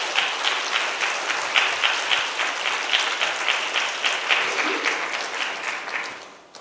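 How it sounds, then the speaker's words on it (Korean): A church congregation at a Friday night healing service claps to welcome a pastor, loud and lively with a pulsing, rhythmic swell before fading out at the end. "우리 박수로 환영하겠습니다."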